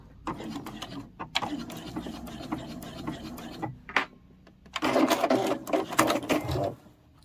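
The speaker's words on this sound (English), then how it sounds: "I'm going to turn all the way back to the top, and then I'm going to back stitch there as well." A sewing machine back stitches a beginner cross-body sling bag in several bursts of rapid needle clatter, broken by short pauses and a louder, busier run near the end.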